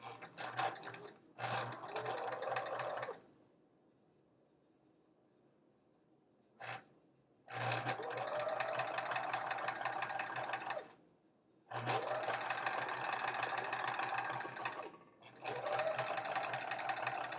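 Quilt block fabric runs through a sewing machine in several long, fast, steady bursts with short quiet gaps between them, close and fairly loud, while the table rattles faintly beneath.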